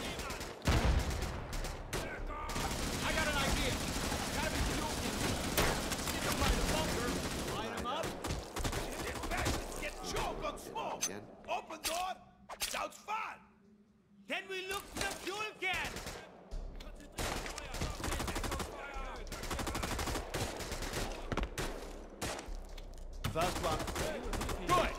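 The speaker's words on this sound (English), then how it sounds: "Taking heavy fire. The MG, it's making holes where holes shouldn't be." Machine gun and rifle fire in the World War II shooter RAID: World War II, dense rapid bursts and volleys filling most of the stretch, with a short lull mid-way and a voice talking over the battle.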